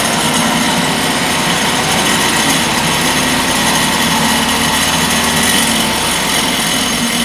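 A 2003 Nissan Frontier's 2.4L four-cylinder engine runs steadily and loudly after a clutch replacement, a dense, continuous mechanical roar with a high-pitched whine and no breaks, heard alone without talk.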